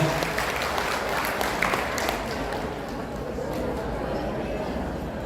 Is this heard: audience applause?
yes